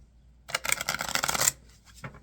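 Tarot cards being shuffled by hand: a quick papery riffle of about a second, followed by a couple of softer rubbing flicks, close and quiet.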